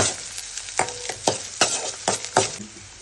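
Garlic and pepper powder fry in a pan and are stirred, with about six distinct scraping strokes at a steady rhythm over a soft, continuous sizzle.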